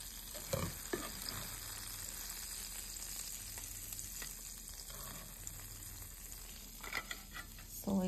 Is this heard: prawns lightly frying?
yes